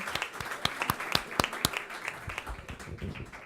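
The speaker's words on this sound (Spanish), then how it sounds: "Brindémosle un fuerte aplauso a nuestros oradores por su aporte y compartir experiencia" An audience at an Inter-American environmental law congress session applauds its speakers. The clapping is steady and moderately distant, with several sharper individual claps standing out and no talk over it.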